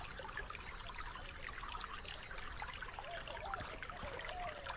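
A magic spring in the game Rosewater trickles steadily, a soft continuous bubbling and dribbling of water heard alone at a moderate level with no voices.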